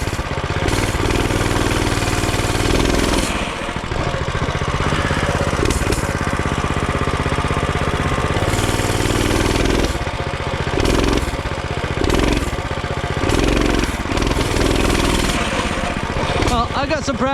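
The small engine of a Coleman B200R minibike revs and surges in loud, choppy bursts during a wheelie attempt, its buzzing dipping and rising repeatedly as voices talk over it.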